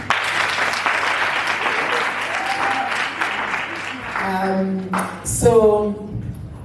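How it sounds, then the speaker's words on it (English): Audience applause at a keynote speech, a broad clapping wash that fades out, followed by voices and a short bright tonal sound near the end. "give yourself a round of applause for that"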